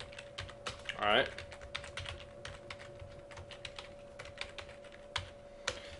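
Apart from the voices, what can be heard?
typing code on a computer keyboard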